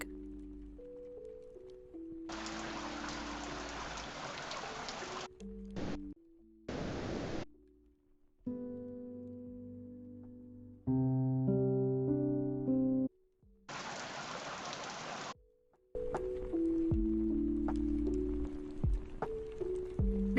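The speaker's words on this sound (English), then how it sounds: "I recorded a few sounds from the white noise library so you can get an idea of what it sounds like." Several white-noise style sleep sounds from the Soundcore Sleep A20 earbuds app play in turn, broadband hiss and rain-like washes alternating with softer tonal ambient segments, each a few seconds long, steady and fairly quiet with no talking.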